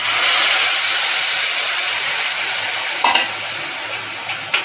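Lentils for dal tipped into a hot pan with green chilli, garlic, dried red chilli and onion, a loud steady sizzle that slowly fades, then a few scraping stirs, with no talking.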